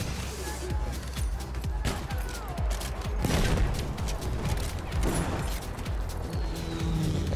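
Machine gun fire amid battlefield chaos in Battlefield 1, rapid bursts and booming impacts over rumbling vehicle noise, dense and loud throughout, with voices talking over it.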